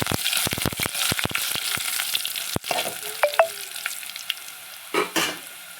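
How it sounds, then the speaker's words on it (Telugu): Onions and curry leaves fry in oil for tamarind-leaf pappu charu, a soft sizzle broken by sharp clicks and scrapes of a spoon stirring in the pan, with no talking. "ఉల్లిపాయలు బాగా ఎర్రని కాలుతుంది ఇప్పుడు చివరిగా కరివేపాకు వేయాలండి"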